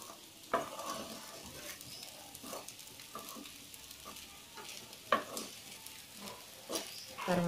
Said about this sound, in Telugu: మిరియాల పొడి వేసి బాగా కలుపుకోవాలి.